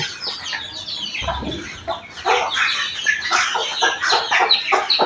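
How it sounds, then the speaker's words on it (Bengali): Native (desi) hens cluck in a backyard yard, several birds calling in overlapping, irregular bursts close by, with a brief low thump partway through and no talking. "এই মুরগিটা হচ্ছে আমার বাড়ির সবচেয়ে বুইরা মুরগি"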